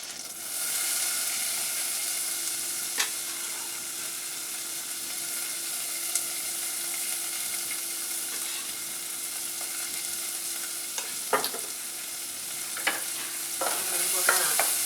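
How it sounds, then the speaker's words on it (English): Half an onion and two cloves of garlic, chopped, sauté in butter in a pan, giving a steady close hiss and sizzle with a few soft taps and stirring scrapes, no voices present. "we're going to saute those in the pan with the butter"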